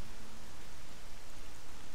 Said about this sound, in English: Is it the rain?